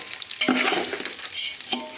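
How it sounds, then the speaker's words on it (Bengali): Whole garam masala spices hit a mix of hot oil and ghee and sizzle sharply up close, with a few utensil clinks and stirring scrapes against the pan. "তার জন্য এই গরম মশলাটা গোটা এখানে দিলাম।"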